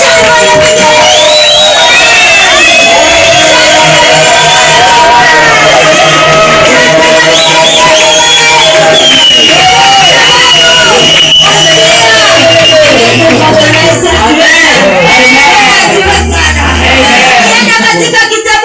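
A church congregation cheers and shouts loudly and continuously during a sermon, a dense crowd roar with whoops and voices layered over sustained musical tones.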